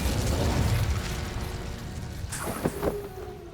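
A fire spell cast in Hogwarts Legacy bursts out as a short whooshing flare near the end, over a low continuous rumble of game ambience.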